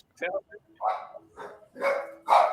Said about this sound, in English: Y'all excuse my dog.